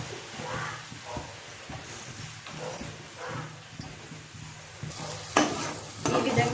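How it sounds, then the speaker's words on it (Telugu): Chopped onions frying in hot oil in a pan for chole curry, a soft steady sizzle with scraping stirs from a spatula, fairly quiet and close, with occasional louder clatter near the end. "ఈ విధంగా ఆనియన్ని రెడ్ అయ్యేంత వరకు ఫ్రై చేసుకోవాలి."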